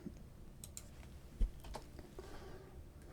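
Computer keyboard typing while entering code for a ModBus instrumentation page in Node-RED, heard as a few scattered, faint clicks and taps over a low, quiet room background.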